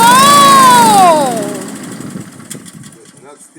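A lawn mower engine turns over and catches, its pitch sweeping up and then sliding down before settling into a rougher, quieter running sound, with a person exclaiming over the start.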